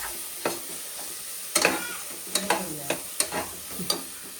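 Chicken curry masala is stirred in a pan with a spoon, giving close scraping and tapping knocks in an uneven rhythm over a soft, steady sizzle.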